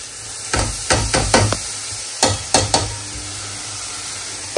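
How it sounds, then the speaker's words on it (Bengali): Rice and lentils with ginger garlic paste frying in a little oil, a steady low sizzle broken by a series of sharp spoon knocks and scrapes against the pot, close and fairly loud, with no talking. "সামান্য তেল দিয়ে চাল ডাল একসাথে একটু ভেজে নিব"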